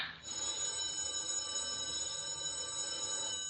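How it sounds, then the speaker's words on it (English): Telephone ringing, a bright electronic bell tone that starts abruptly and rings continuously at steady volume, fairly close and alone with no talking. "the telephone was ringing"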